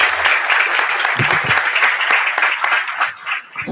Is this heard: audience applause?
yes